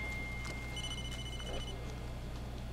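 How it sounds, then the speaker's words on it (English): An electronic phone ringtone sounds in the Blair Witch horror video game, set in a dark forest: one short tonal ring, fairly faint over a constant low background hum. "Oh, my phone's calling."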